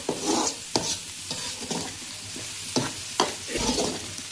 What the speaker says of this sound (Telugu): ఇప్పుడు ఇందులో వేసి ఫ్రై చేసుకుంటున్నాం.